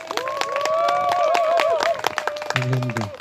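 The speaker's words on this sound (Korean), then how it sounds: "여러분 다시 한번 정인규 박사님 큰 박수 환영해 주십시오" An outdoor audience at a forest recreation area applauds Dr. Jeong In-gyo with scattered, fairly close clapping while someone speaks over it, a tonal sound rising briefly beneath.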